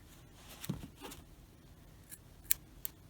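Scissors snip through yarn while trimming a knit hat, a few crisp, close cuts spaced out over quiet room tone with no talking.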